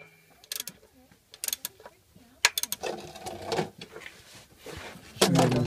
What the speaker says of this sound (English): It's a 24mm socket.